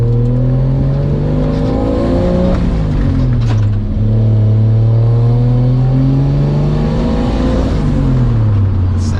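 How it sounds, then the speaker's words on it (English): A 1JZ-swapped Nissan 240SX S14 Kouki revs loud and close while driving, its engine note climbing and falling through repeated pulls, with no talk over it. "being able to drive my first 240 S14"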